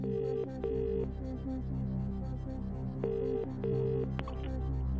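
A telephone rings in repeated double bursts, close and clear, over a low studio hum during a phone-a-friend call on a UK television quiz show.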